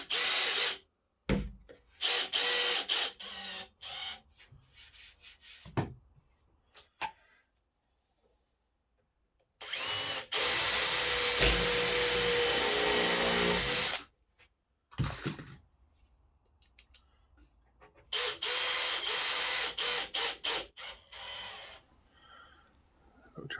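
A power drill drives 2-inch drywall screws into wood while a wardrobe carcass is built, in several separate bursts of a few seconds each, loud and close, with a long steady run in the middle.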